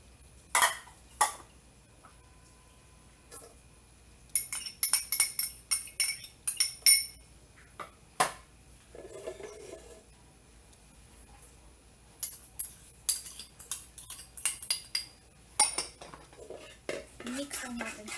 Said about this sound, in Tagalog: Ang una natin gagawin ay paghahalu-haluin lang natin lahat ng ating ingredients.